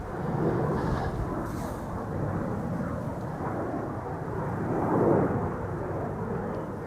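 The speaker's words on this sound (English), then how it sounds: "Time for another KLM A321 Neo. This one is flight 1005 to London Heathrow" KLM Airbus A321neo airliner departing Amsterdam Schiphol for London Heathrow, a steady broadband jet roar that holds constant and swells slightly near the end, heard at a distance without talk.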